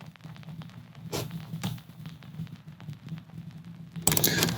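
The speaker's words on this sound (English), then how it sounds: "vinyl effect. Sounds like this." A vinyl crackle effect on an electronic music production track gives soft scattered clicks and pops over a low hum, with a brief burst of brighter noise near the end.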